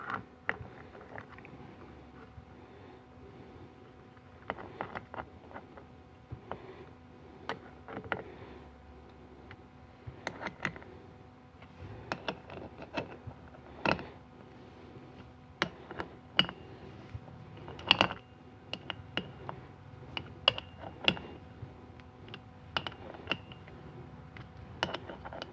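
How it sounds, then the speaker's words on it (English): Bolts are snugged down on a 700R4 automatic transmission pump, with quiet, scattered ratchet clicks and metallic ticks coming in irregular bursts, close up and without talk. "once you snugged a couple bolts"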